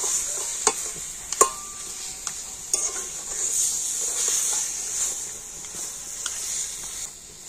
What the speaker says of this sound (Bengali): লবণ হলুদ দিয়ে জলপাইটা একটু ভালো করে কিন্তু মিশিয়ে নিয়েছি, মানে একটু এইভাবে নাড়াচাড়া করে নিতে হবে